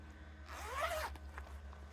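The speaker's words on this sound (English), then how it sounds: "this back of the cushion is a bit different from the other one because we've actually got the zip in the middle" A single zipper pulled along the middle of the back of a latch hook cushion, one quick close rasping zip lasting about half a second in an otherwise quiet room.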